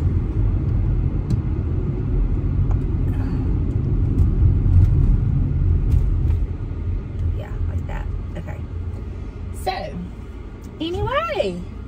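Steady low road rumble from inside a car driving toward Loosedale, continuous and loud throughout, with occasional faint higher chirps near the end.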